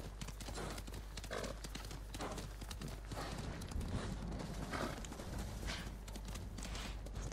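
Hooves of a white horse clip-clop in a steady walking rhythm in the video game Ghost of Tsushima. Soft ambient game music and wind sit under the close, clear hoofbeats.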